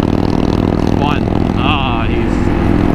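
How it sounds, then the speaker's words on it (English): Motorcycle exhaust rumbles steadily and loud throughout while riding, a continuous engine drone with a brief higher whine partway through. "that exhaust just sounds so freaking good on that bike."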